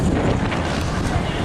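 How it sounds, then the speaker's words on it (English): Strong wind buffets the microphone on a seaside pier at Clarence Pier, a steady, loud, broadband rush with no break throughout. "Oh, it's windy up here."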